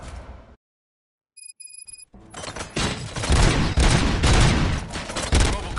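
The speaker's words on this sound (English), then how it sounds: "Gunshots?" Gunfire erupts in Robocop: Rogue City as a loud, dense fusillade of rapid overlapping shots and booms that follows a brief silence and a short electronic beep pattern.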